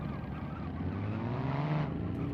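Diesel car engine droning steadily in a BeamNG Drive drag race on a rough road, a close, continuous low hum with rising pitch toward the end.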